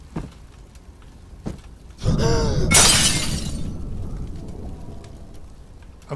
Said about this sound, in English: smashed it with the crowbar